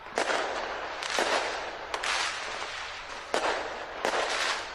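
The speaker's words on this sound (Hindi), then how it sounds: "नए साल का आगाज होते ही आतिशबाजी की गई" New Year fireworks boom one after another, about five loud bursts, each followed by a long crackling decay that blends into the next.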